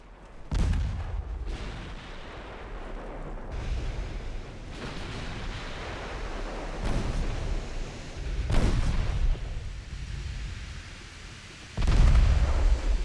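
Heavy naval gun salvos in the Ultimate Admiral Dreadnoughts warship video game, a series of deep booming blasts spaced a second or two apart, each rolling away into a long low rumble.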